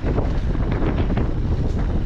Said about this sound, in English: And wind.